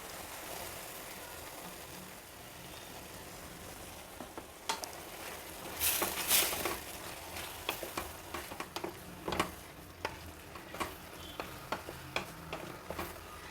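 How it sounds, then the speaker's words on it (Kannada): Ground spice paste tipped into a pan of cooked potatoes and brinjal, with steady soft sizzling and scattered clinks and scrapes of a spoon stirring, growing busier midway and staying close without talk. "ಈಗ ರುಬ್ಬಿರೋ ಮಿಶ್ರಣನ ಇದರಲ್ಲಿ ಹಾಕ್ತಾಯಿದ್ದೀನಿ"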